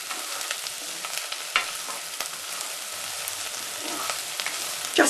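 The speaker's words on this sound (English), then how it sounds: "Just stir them once in a while, making sure they're completely coated in the oil whilst they're frying." Onions sauté in hot oil over medium heat with a continuous bright sizzle, broken by occasional scraping knocks as they get stirred in the pan; no one talks.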